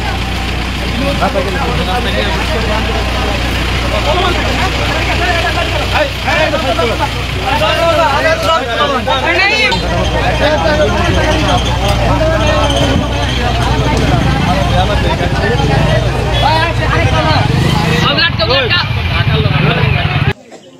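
An agitated crowd fills a village road in Ulail during a protest demanding renovation of the village field. Dense, loud, continuous voices overlap with the rumble of an idling engine nearby.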